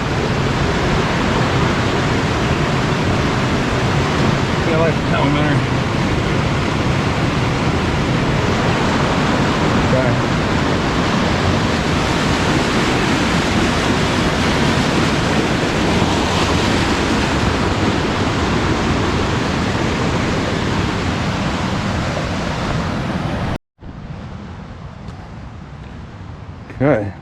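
Steady broadband rush of a river at Paradise in Mount Rainier National Park fills most of the span, loud and continuous, with people talking over it before the sound drops away sharply near the end.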